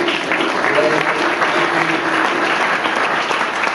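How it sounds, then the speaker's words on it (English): A keynote audience at a meetings and events trade show in Frankfurt applauds, a dense, even wash of clapping that holds steady at full strength from start to finish. "So please give ourselves great applause"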